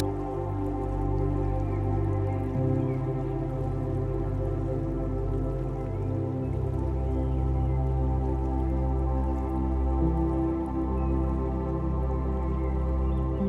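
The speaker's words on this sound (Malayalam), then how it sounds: "This is the സിറുമലൈ waterfalls." Water pours steadily at Sirimane Falls near Kigga, a continuous dense rush with no breaks, with a low steady hum underneath.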